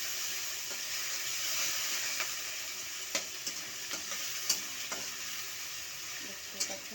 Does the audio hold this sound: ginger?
yes